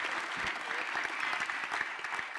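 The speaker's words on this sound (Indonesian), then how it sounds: "Banyak amat yang tepuk tangan." A studio audience claps in a dense, continuous burst of applause for a couple of seconds at moderate level, with no other sound over it.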